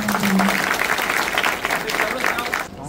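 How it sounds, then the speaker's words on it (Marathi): Audience applause at a talk by a neurosurgeon for pilgrims during a palkhi procession gathering: a steady, dense crowd clapping that holds for nearly three seconds, then cuts off abruptly at the end. "पुन्हा एकदा आपण टाळ्या वाजवूया आणि त्यांना धन्यवाद देऊया"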